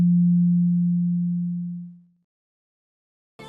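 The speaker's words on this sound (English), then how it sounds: "If we shift it to exactly 180 degrees, the sound will completely cancel itself out." A steady pure sine tone from two oscillators fades smoothly to silence as their phase shifts toward cancellation, leaving a quiet gap before a brief burst of noise at the very end.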